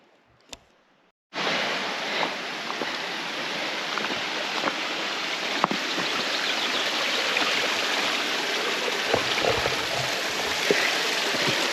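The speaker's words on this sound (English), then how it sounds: "So this is the waterfall stream bed." After a brief quiet start, a waterfall stream along a hiking trail in the Lake District suddenly fills the sound with a steady, loud rushing flow that continues unbroken, with a few faint knocks and footsteps beneath it.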